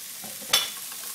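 Chopped garlic is added to translucent onions sautéing in a pan, giving a soft steady sizzle with one sharp hiss burst midway as it hits the hot oil.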